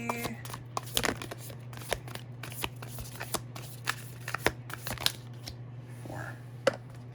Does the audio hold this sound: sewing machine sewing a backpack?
no